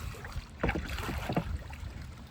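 Water sloshing and a paddle dipping near a canoe fitted with air bags, with a couple of distinct splashes over steady outdoor background noise.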